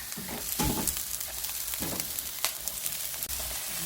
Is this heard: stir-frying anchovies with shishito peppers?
yes